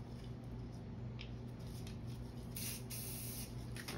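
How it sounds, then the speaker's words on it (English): White spray paint hissing continuously from an aerosol can with a new nozzle during spray art painting, a loud, close, unbroken spray. "I also wanted to get a new nozzle for the white spray can."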